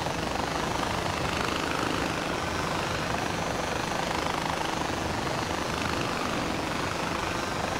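Steady, dense engine roar of an aircraft flying in the video game Far Cry 4, loud and unbroken for several seconds with no speech over it.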